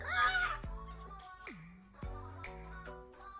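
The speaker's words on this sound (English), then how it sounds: "that was a weird bird" A crow-like bird caws in a few short, harsh calls at close range, separated by brief pauses, with no talking.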